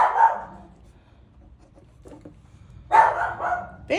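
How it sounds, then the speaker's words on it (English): A pet dog named Bear barks at a washing machine indoors, giving two loud bursts of barking separated by a quieter stretch with faint household noise. "that'll be my dog barking at the washing machine"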